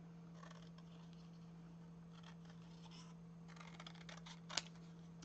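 Scissors snipping through a paper pattern for a folio pocket, a series of faint close cuts over a steady electrical hum, ending with a slightly louder snip.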